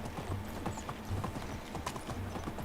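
A horse's hooves clip-clop in a steady walking rhythm in the Medieval Dynasty video game, fairly quiet and close, with a faint whinny-like tone and no talking over it.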